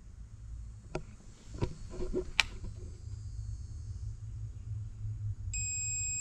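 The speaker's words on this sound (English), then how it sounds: "There's a long beep coming." A long, steady electronic beep from a Honda/Acura key programmer sounds alone near the end, signaling key registration has begun, following a few faint clicks and handling noises over a low background hum.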